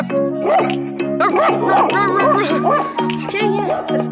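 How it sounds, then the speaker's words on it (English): A dog barks repeatedly and close by in quick, excited bursts while someone shouts over it the whole time. "this dog, man. This dog, what the fuck?"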